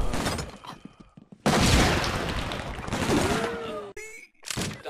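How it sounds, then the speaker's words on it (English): Gunfire in the video game SWAT 4: loud bursts of rapid shots crack out in clustered volleys, broken by short pauses, with faint in-game voices between them. "I'm pretty sure that's gunfire"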